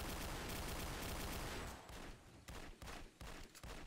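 Video game gunfire aimed at boxes, a dense continuous burst followed by several separate short volleys, loud and up front.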